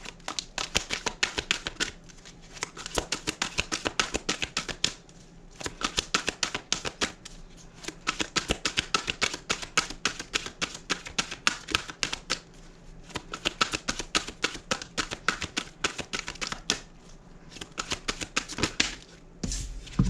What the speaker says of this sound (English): I don't know why I'm shuffling this because I already shuffled